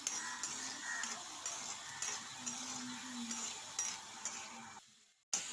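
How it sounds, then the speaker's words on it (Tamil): Ginger, garlic and green chilies sautéing in a pan for coriander stem chutney, a steady close sizzle with repeated scraping stir strokes, cutting out briefly near the end before one last clatter. "இஞ்சி பூண்டு பச்சை மிளகாய் 3 வதக்கி எடுத்துட்டோம்"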